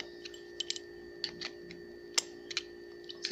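A small clip snaps into place in a four-stroke motorcycle engine, driven down with a screwdriver. Faint scattered ticks and light taps sound during the work, one slightly sharper click near the middle, with no voices.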